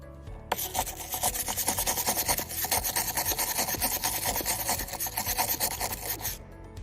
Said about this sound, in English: I think all the rust will come off if I use this brush.